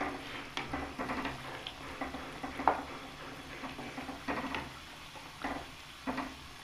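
Desi chicken karahi with black pepper frying on a high flame: a low, steady sizzle with irregular scraping and clinking stir strokes every second or so, fairly quiet and without talk.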